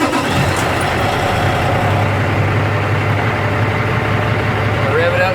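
A UPS delivery truck engine runs at a steady, loud idle inside the cab, a continuous low rumble with a faint rising whine near the end as air pressure builds.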